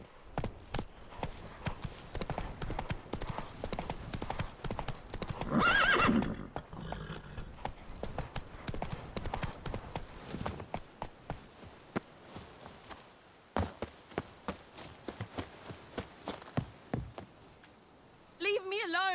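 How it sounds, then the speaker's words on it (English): Roach, the horse in the video game Witcher 3, trots with repeated clip-clop hoofbeats and gives a loud whinny partway through. Speech runs over the hooves for much of the stretch. "Whoa there, Roach"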